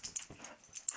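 A dog whimpers and yips in short, high, broken bursts at close range, with several brief whines spread across a second and no talking over them.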